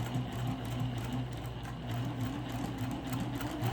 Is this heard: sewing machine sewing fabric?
yes